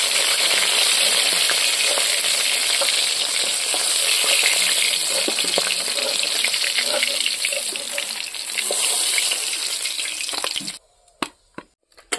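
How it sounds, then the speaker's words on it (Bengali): Silver carp pieces fry in hot oil in a pan, a dense continuous sizzle with faint stirring clicks, then the hiss drops away abruptly near the end leaving a few scattered knocks. "মাছগুলো একটু লাল লাল করে ভেজে নিলাম"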